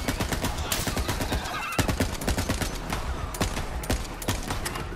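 Star Helix assault rifle firing in Borderlands 3, a dense, rapid stream of loud, close gunshots rattling almost continuously with no pause.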